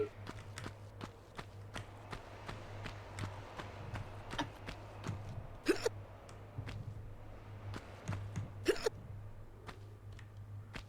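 Lara's short, hiccup-like vocal grunts as she jumps in Tomb Raider, a few sharp bursts over regular footsteps and a low steady hum.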